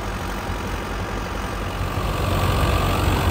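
A Belarus tractor engine runs steadily under load as a low, continuous rumble that grows slightly louder toward the end. It is close and alone, with no voices.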